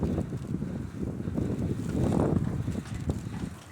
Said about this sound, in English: The wind is blowing it very hard.